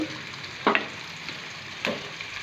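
Chopped green chillies and onions dropped into hot oil in a pan for a potato and carrot fry, giving two brief bursts of sizzling over a low, steady background fry hiss.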